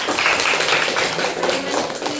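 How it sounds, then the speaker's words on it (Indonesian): Classroom audience applause at an Indonesian guidance-counselling training session, a steady, fairly dense patter of hand claps lasting a couple of seconds with faint background voices. "Terima kasih tepuk tangan."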